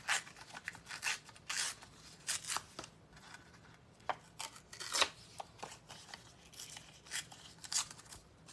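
Paper torn by hand for a handmade card, a series of short, dry ripping bursts close by, some quick and some drawn out, with quiet pauses between them.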